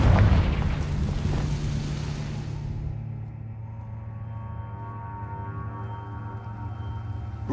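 A Confringo blasting spell in the Hogwarts Legacy video game goes off as a loud, deep boom that fades into a long low rumbling tail and lingering hum.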